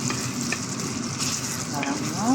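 Ground beef with oyster sauce sizzles in a pan while being stirred, a steady frying hiss with occasional spatula scrapes, close and continuous.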